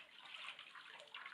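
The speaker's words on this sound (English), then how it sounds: "And yes, I rinse this bucket out after I" Water rinses out a bucket that held soapy water during beaver hide tanning, a steady close hiss and splash running continuously with no voices.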